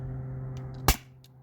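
A single sharp crack from an Umarex HDP50 T4E pistol fired through a chronograph cuts briefly over a low steady hum, then fades quickly.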